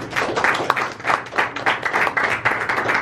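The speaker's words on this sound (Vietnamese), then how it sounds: "xin quý vị cho một tràng pháo tay để cảm ơn ông" A seated audience at a Vietnamese poetry-drama launch breaks into applause, a dense wash of many hands clapping in surging waves, fairly loud and steady for a few seconds.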